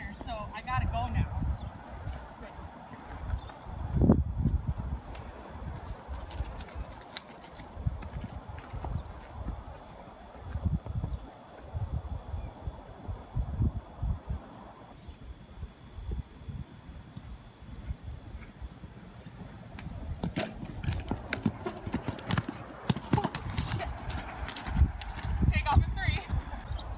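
A ridden pony's hooves clip-clop steadily outdoors, with rhythmic thuds and gait changes throughout, while people talk over the hoofbeats.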